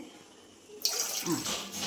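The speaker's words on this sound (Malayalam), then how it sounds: "ഞാൻ ഇതിനകത്ത് 2 ഗ്ലാസ് വെള്ളം ഒഴിക്കുക." After a quiet moment, two glasses of water suddenly start pouring into a pot, a steady splashing gush that continues to the end.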